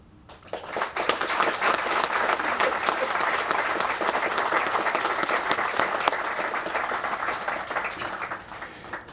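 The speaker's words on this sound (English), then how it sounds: "we ask for a round of applause to celebrate these heroes" Sustained audience applause at a fire department 9/11 remembrance ceremony honoring heroes, dense steady clapping from a crowd that swells quickly and fades slightly toward the end.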